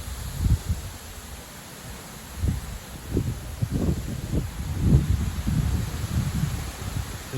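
Strong wind gusts near 80 km/h tearing through trees, loud thumping microphone buffets and rushing leaf rustle arriving in repeated surges over a few seconds, with no voices.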